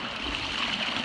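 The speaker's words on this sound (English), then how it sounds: "The trail often becomes a river" Steady rushing and trickling water flows close by along a flooded stretch of the Appalachian Trail, with no voices.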